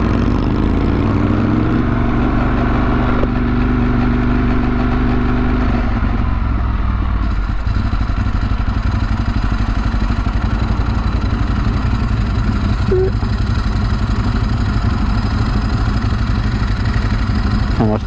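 A green vintage motorcycle engine idles close by at a bike night gathering, a steady low thrumming pulse with a slight rev change early on, then settling into an even, loud idle.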